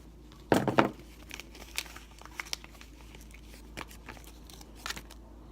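Plastic packaging being cut open for an aluminum transmitter stick and knobs, a sharp crinkling snip near the start followed by faint scattered rustles and small clicks, close and quiet.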